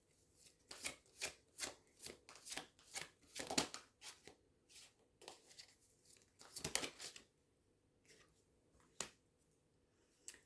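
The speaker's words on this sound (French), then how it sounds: "je remonte les cartes" Playing cards are shuffled and handled in a quiet room, a run of quick papery riffles and snaps in bursts, close and faint, with no talk over them.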